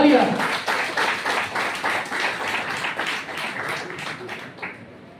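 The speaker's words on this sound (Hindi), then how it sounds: "तो ऐसे एम्ब्रोसिया मेट्रो हाउस के लिए एक बार जोरदार तालियां।" A crowd gives a burst of hearty applause, many hands clapping in a dense, rhythmic patter that stays loud for several seconds and then tapers off.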